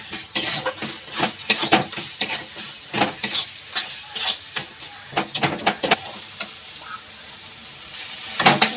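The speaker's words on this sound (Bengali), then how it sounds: "আমার মশলাটা ভাজা হয়ে গিয়েছে" Spices for mutton biryani fry in a pan on high gas, with a close sizzle under repeated rhythmic stirring and scraping strokes, and no talk.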